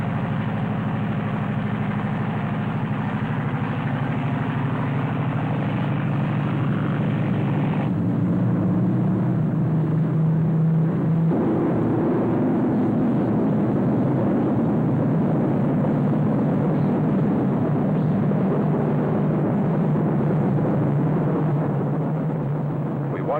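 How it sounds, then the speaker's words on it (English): A jet airplane roars steadily for a long stretch as it takes off, the engine noise swelling and shifting in tone, loud and continuous. "That plane take off. And as it left the airport"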